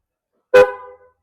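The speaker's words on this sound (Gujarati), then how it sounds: "આ રીતે હોરન થાય એટલે બહુ મજા આવે" A modified car horn gives one loud, close honk with a bright multi-tone blare that fades quickly, then a tiny trailing blip, with silence before and after.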